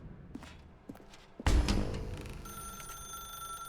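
A telephone rings in the video game The Stanley Parable; a few footsteps and a heavy thud come first, then a steady, thin, high ringing tone carries on, fairly quiet.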